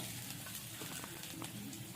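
Cauliflower pakoras frying in a wok with onions, giving a steady, dense sizzle with soft crackles throughout, close and continuous.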